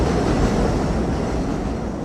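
A New York City subway train on the number 7 line in Queens gives a steady, loud rumble that roars without pause from start to finish, with no voices.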